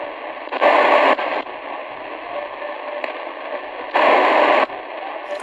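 Rococa Z5 portable AM/FM shortwave radio tuned to the top of the AM band near 1700 kHz, giving steady hissy static with two louder bursts of distant, faint broadcast sound fading in and out.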